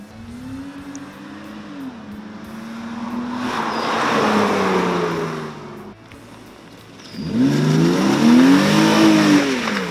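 A car with a mid-range engine sweeps past in a flyby, revving as it approaches and recedes, then a second louder pass with rising and falling engine pitch close by.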